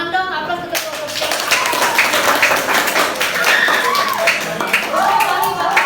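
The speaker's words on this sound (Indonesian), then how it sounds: "Tepuk tangan dong, aplaus untuk kelompok C." Clapping and applause for group C in a school classroom game session, a burst of hands rising after a brief pause and continuing steadily, with voices cheering and talking over it.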